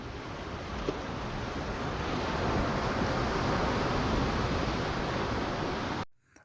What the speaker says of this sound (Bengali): দেখতে পাচ্ছেন আপনারা সাহায্যটা যেটা আসছে সেটা সমুদ্রের ঢেউ।